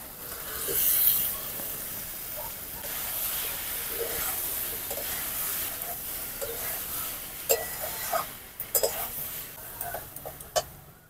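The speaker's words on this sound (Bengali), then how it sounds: "আমি এখন ভেজে রাখা এঁচড় আর আলুগুলো দিয়ে দেবো।" Pre-fried jackfruit and potato pieces tipped into hot oil and well-cooked spices, giving a steady broad sizzle, followed by sharper clattering stirs and scrapes toward the end, with no talk.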